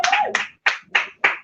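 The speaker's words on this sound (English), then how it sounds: "let's have a round of applause for your last act of the show, Mark Simmons!" Short bursts of clapping from a comedy-club audience at a one-liner comedy show, four quick separate rounds in a row, close and fairly loud, with a brief voice at the very start.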